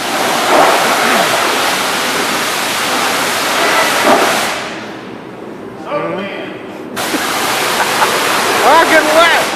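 A steady, loud roar of spraying water fills the bay of a car wash, briefly easing before surging again, with a voice speaking over it.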